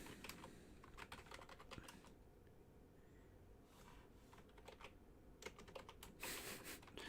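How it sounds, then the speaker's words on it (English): Keys clattering on a computer keyboard in quick irregular bursts, close and fairly loud, with short pauses between flurries and no talk. "I'm just typing something here."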